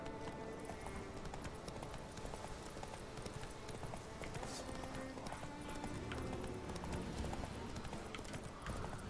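Roach the horse gallops along a road in Witcher 3, a steady, fast hoofbeat rhythm running throughout at moderate volume, with occasional game ambience beneath.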